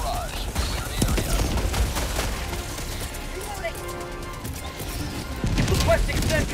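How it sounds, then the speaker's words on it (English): Orbital barrage strike in the video game Helldivers 2, rapid rolling explosions and gunfire booming continuously, with in-game voice callouts over the din. "Requesting orbital! Firing local barrage. Clear the area."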